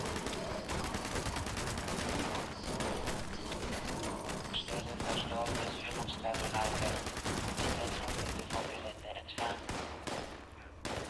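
Gunfire in the online game Fallout 76, dense rapid bursts of shots crackling almost without a break, loud and close, with players talking beneath the shooting.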